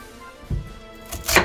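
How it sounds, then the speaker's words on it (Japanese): A kitchen knife cuts diagonally through a large fibrous bamboo shoot, giving two dull thunking chops on a board, the second louder, with quiet pauses and no speech. "包丁で斜めに切っていきたいと思います"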